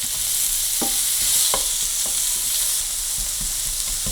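Chicken fajita strips sizzle steadily in a hot pan, with a loud, continuous frying hiss broken by several distinct scrapes and clacks of a wooden paddle stirring the meat.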